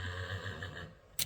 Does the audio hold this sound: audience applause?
no